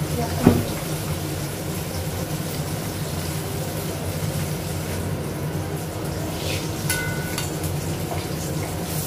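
Food fries in a pan with a constant crackling sizzle, joined by an early clink and a few scraping stirs.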